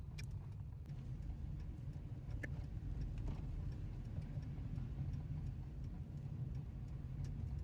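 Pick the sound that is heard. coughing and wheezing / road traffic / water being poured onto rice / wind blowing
road traffic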